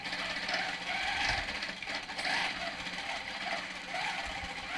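A longarm quilting machine stitching across an old quilt close beside embroidery: a steady, fast mechanical chatter and hum runs the whole time, with slight surges in intensity, close and fairly loud, no talk over it.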